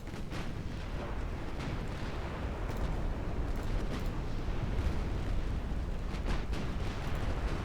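Torpedo strikes explode against a ship in a naval battle game, a dense rumbling barrage of booms and bursts that stays loud and continuous throughout, with no talking.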